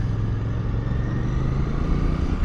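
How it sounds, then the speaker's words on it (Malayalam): Royal Enfield Bear 650, a 650 cc scrambler built from the Interceptor, riding under throttle: a loud, steady engine drone with a continuous low rumble and no breaks, heard alone. "ഇതിൻ്റെ ത്രോട്ടിൽ കൊടുക്കുമ്പോൾ അത് ഉണ്ടാക്കുന്ന ആ സിംഫണി."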